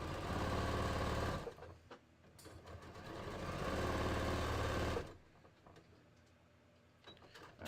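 A sewing machine runs close up stitching the side seam of a bodice, in two sustained bursts of rapid whirring with a brief pause between, then stops and leaves near silence.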